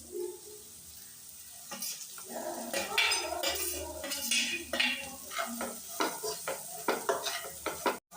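Egg and vegetables for street-style egg rice fry in a pan with an even sizzle while a spatula stirs and clatters against the metal in quick, repeated strokes, close and fairly quiet.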